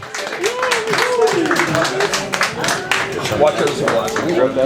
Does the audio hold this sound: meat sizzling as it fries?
no